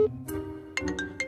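Phone ringtone announcing an incoming call, a short bright electronic melody of several clear chiming notes over a low sustained tone, loud and close with no talk.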